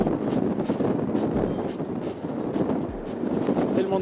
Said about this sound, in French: Tellement de vent que ça déplace l'appareil